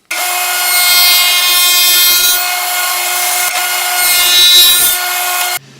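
A power saw cuts grooves in wood for a drill press table fence: a loud, steady high whine with a rougher cutting rasp in two passes, ending abruptly as the blade stops.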